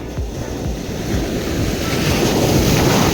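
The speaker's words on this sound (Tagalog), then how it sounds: "grabe yung alon, napakataas" High, heavy ocean waves rolling onto Chulo Beach, a loud continuous roar of surf with strong wind buffeting the microphone and repeated low thumps as swells break close by.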